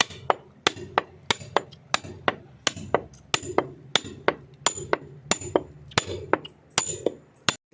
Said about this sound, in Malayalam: ആദ്യമായിട്ട് നമ്മൾ ചെയ്യേണ്ടത് ചിപ്പ് ചിപ്പ് ചെയ്യാം